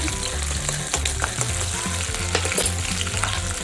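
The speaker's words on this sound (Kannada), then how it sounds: "ಇವಾಗ ಬಾಣಲಿ ಕಾದಿದೆ ಹಸಿಮೆಣಸಿನ್ಕಾಯಿ ಹಾಕೊಳ್ತೀನಿ" Green chilies sizzle and crackle in hot oil in a frying pan, a steady close frying hiss with small pops running throughout, no voices.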